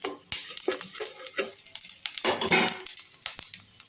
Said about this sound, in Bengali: ফোড়নটা একটু হালকা করে ভেজে নিচ্ছি